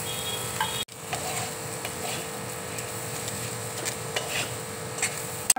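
Grated potato goes into a pan of fried spices with a brief cut-out, then comes a soft sizzle under repeated scraping and stirring strokes from a spoon against the pan, close by, ending in a sharp knock.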